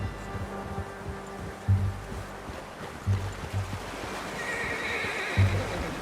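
A horse in Red Dead Redemption 2 neighs with a few whinnying bursts over a steady rushing ambience, with soft hoof clops scattered throughout; no one speaks.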